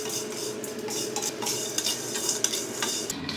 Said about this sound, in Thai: ใช้ไฟกลางๆคั่วไปเรื่อยๆครับ